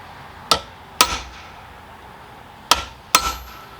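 A hammer strikes a center punch to dimple a metal rod in four sharp, ringing metallic taps: two close together, a pause, then two more, each clear and alone.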